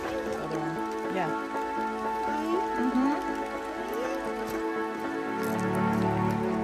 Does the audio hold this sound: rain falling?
yes